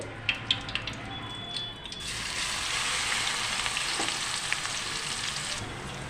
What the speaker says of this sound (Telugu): ఈ ఆనియన్స్ గోల్డెన్ బ్రౌన్ కలర్ వచ్చే వరకు మనం బాగా ఫ్రై చేసుకోవాలండి